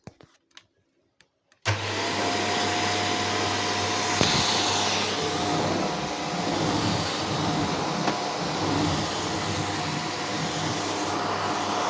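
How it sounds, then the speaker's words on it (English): A Shark corded Powered Lift-Away vacuum cleaner switches on after a few quiet clicks and runs with a loud steady motor roar and airflow hiss, a faint tonal whine riding over the drone. "Now let's get a bit of vacuuming done."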